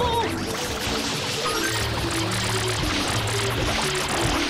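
Water pours steadily in the Super Mario Sunshine video game, a continuous splashing stream under the game's tonal background music, with no talking.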